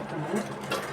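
Sewing machine stitching a high neck collar, a brief steady mechanical whir with a rapid needle rhythm, close and moderately loud.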